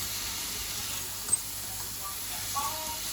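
Sweet basil being stirred in a sizzling pan, a continuous soft hiss of frying with faint scraping from the stir, close and steady without speech.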